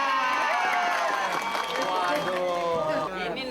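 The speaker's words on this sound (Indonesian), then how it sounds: "Tepuk tangan buat Pak Iwan." A street crowd cheers and shouts for a school principal brought out as a guest, loud lively voices swelling together with some clapping mixed in.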